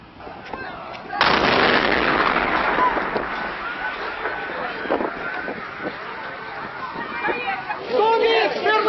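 A sudden loud blast erupts in a crowd at a marching column just after a second in, followed by a sustained roar of crowd noise and shouting, with another surge near the end.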